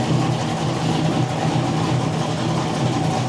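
A Blueprint 350 crate engine idles at about 650 RPM with a steady, loud, low rumble that runs unbroken from start to finish, with no voices over it.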